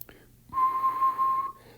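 A single steady whistled pitch is held for about a second, clear and close, with a faint breathy onset and no talk over it.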